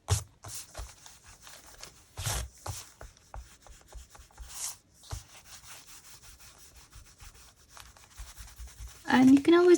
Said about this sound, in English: I think I'm just gonna erase these pencil marks